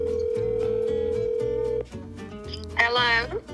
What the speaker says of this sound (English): This time I'm gonna call LMA. I'll see if she picks up